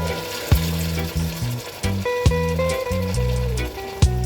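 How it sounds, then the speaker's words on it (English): White rum deglazes a hot pan of browned oxtail, a steady close sizzle that runs under rhythmic background music with sharp percussive hits. "Just going to let that cook out for a bit. This process is deglazing."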